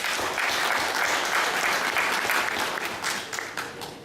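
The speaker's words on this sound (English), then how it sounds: "I think we need to give Rwanda a thunderous hand clap." A conference audience at a sanitation meeting in Dakar, Senegal claps steadily for a presentation, a broad continuous patter of many hands, moderately distant and gradually thinning toward the end.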